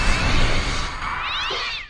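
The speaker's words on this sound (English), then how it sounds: "Cat Wilhelm scream." A loud, harsh cat screech from a Harry Potter film, a single drawn-out yowl that wavers and bends in pitch before cutting off, heard up close with nothing else over it.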